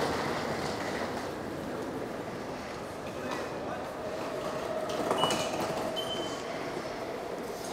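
Train noise in Seoul Station: a broad rumble with some squeals and clanks, heard from the platform at moderate distance.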